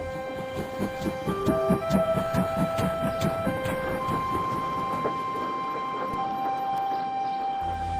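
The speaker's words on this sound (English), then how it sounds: "Thomas had collected another trainload of milk churns and was trundling slowly back to the factory." A cartoon train hauls a load of milk churns slowly along, a rhythmic chugging throb under sustained music tones, moderately quiet and alone without speech.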